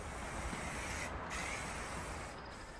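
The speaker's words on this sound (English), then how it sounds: "I'll spray on a toner to help blend the different colors of the wood species." Toner sprayed onto an antique wood buffet between shellac coats, a faint steady hiss of spray with two short breaks, heard alone.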